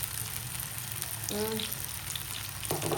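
Parrotfish frying in oil on a flat tawa pan gives a steady, close sizzle throughout, with a brief bubbling flutter midway and a louder crackling burst near the end.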